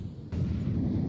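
An incendiary grenade in CS2 bursts into a low, roaring whoosh of fire that starts abruptly and keeps rumbling steadily, fairly loud and close, with no talk over it.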